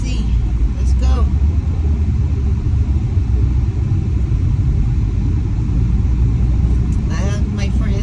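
A car drives through smoky Los Angeles during a wildfire, heard from inside as a loud, steady low engine and road rumble that barely changes.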